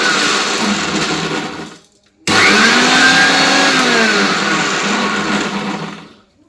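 A new mixer grinder blending apple juice in two loud whirring bursts, the first winding down into a brief pause before the motor starts again sharply and runs steadily until it fades out.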